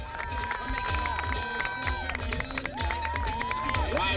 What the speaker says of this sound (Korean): 장애 학생이 완주를 하자 박수갈채가 쏟아진다.